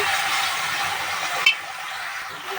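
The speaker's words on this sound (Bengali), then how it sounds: "আমি এর মধ্যে জলটা দিয়ে দিচ্ছি" Water hits browned semolina in a hot pan with a loud, steady hiss and sizzle, broken by one sharp clink of a utensil partway through.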